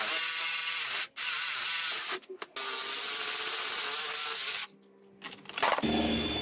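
A power tool cutting through screws on a garden trailer subframe, loud high-pitched whining bursts close by, broken by brief stops and a final change in tone.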